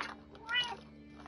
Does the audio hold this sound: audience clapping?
no